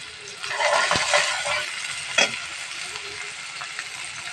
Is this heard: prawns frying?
yes